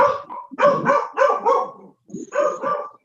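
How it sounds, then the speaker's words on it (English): A dog barks close by in a rapid series of loud, harsh barks, a burst of about five, a short pause, then two or three more. "Let that dog out."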